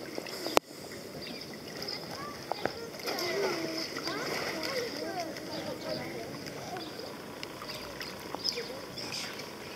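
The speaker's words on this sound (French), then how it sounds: "C'est bien de nager sur l'eau." Water splashing in an outdoor swimming pool on Réunion as someone swims, with intermittent sloshes and splatters close by and voices talking over it.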